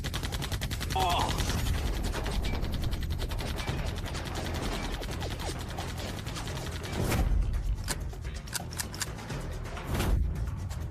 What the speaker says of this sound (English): Why did both guns jam at the same time?